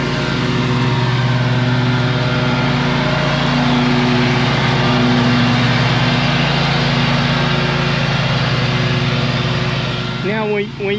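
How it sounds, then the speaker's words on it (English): A lawn mower mulching fallen autumn leaves runs steadily and loudly close by, its engine drone holding even throughout before a brief dip near the end. "Now when you're mowing it"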